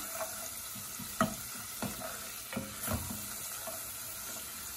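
Onion and spice powder frying in a pan while being stirred, with a steady close sizzle broken by several sharp scraping strokes of the spoon spaced about a second apart.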